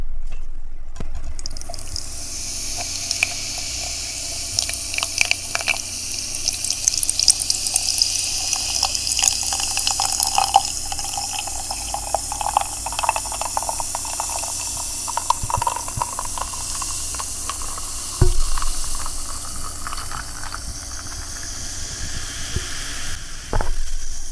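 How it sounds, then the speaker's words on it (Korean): A carbonated drink is opened and poured, a steady fizzing hiss with scattered small crackles and drips and a sharp tick partway through, close and continuous with no talking. "음료수를 좀 딸고"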